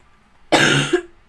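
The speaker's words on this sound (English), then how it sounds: "Really sorry about the coughing." A single sharp cough bursts out close to the microphone, loud and harsh for about half a second, then ends with a short throaty tail, against near silence.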